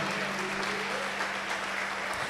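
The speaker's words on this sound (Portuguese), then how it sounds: "Você pode aplaudir o Senhor nessa noite?" A church congregation claps during an anniversary service, a short, even burst of applause that fills the whole moment with no voice over it.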